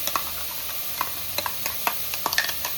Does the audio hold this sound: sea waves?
no